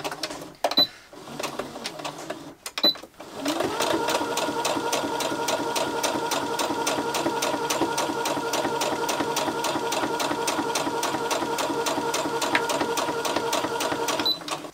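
Domestic sewing machine stitching the cuffs of a child's chef's shirt, a couple of short starts and stops, then a steady, fast rhythmic whirring hum running continuously at close range.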